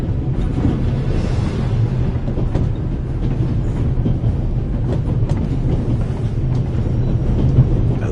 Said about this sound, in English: now you're here, on an out-of-control train in the Alps